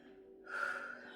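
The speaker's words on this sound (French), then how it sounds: "Excusez-moi, je reprends ma respiration." A single sharp gasp as a woman catches her breath mid-speech, a brief close intake rising quickly and holding for about half a second, with no talk over it.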